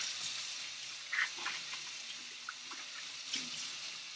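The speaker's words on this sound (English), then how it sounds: "So I'm just going to rinse that leek, set it aside." Running tap water splashes steadily into a sink while a leek is rinsed under it, with a few faint clinks and rubbing sounds breaking through the continuous flow, fairly quiet and close.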